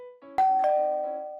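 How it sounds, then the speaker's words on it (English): A doorbell rings at a home, a clear two-tone ding-dong whose second chime lingers and fades, loud and close with no voices. "I wonder who's ringing my doorbell."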